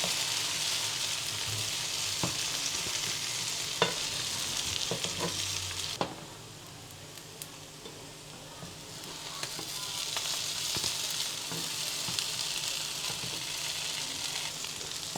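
Already-cooked breakfast food browns in a hot pan, a bright continuous sizzle with scattered spatter pops and utensil ticks, briefly easing off midway before the frying swells again.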